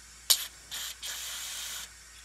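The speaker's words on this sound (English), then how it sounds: "I'm gonna use a little bit of carb cleaner and use the little tube that comes with it." Short hissing bursts of carburetor cleaner sprayed through a thin straw tube into the carburetor of a 10 HP Tecumseh snowblower engine, one quick sharp puff followed by two longer sprays, close by with no talking.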